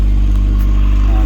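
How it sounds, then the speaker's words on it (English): Loud exhaust of a running, rusty Honda del Sol fitted with a silencer, a heavy, steady low rumble at idle, close and constant with no talk. "we're gonna get rid of this obnoxious exhaust. I hate it. Too loud, even with the silencer."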